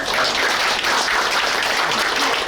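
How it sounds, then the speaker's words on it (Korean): Audience applause at a Korean clan gathering honoring an elderly research institute director, brief dense clapping filling the room at steady loudness without speech. "우리 큰 박수 한번 해올립시다"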